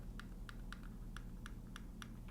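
Quiet side buttons on a Logitech Signature M650 mouse click about a dozen times in an uneven rhythm, each click small and crisp against a soft background hum.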